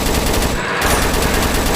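Dense, continuous assault rifle fire in the Roblox zombie arena game, loud and rapid with no pause.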